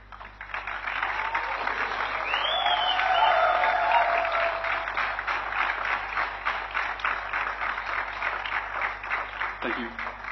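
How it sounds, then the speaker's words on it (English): Graduation audience applauding as people rise to their feet, a sustained, fairly loud wash of clapping with a few voices and cheers mixed in, swelling in the middle and carrying on to the end. "give a rousing applause to thank everyone because of who today was possible"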